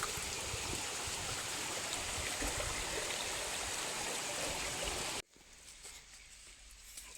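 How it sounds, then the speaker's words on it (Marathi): Steady rushing rainwater flows close by over a muddy rural track for several seconds, a continuous broadband gush that cuts off abruptly, leaving a quieter outdoor ambience. "असं पाणी वाहत आहे बघा मस्तपैकी"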